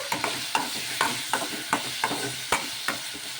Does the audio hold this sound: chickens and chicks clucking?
no